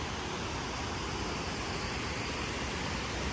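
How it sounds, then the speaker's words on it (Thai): An abandoned forest waterfall in heavy flow sends out a steady, dense roar of rushing water that stays unbroken and fairly close, with no voices over it. "น้ำเป็นน้ำตกร้างนะ อ้น้ำเยอะมากเนี่ย"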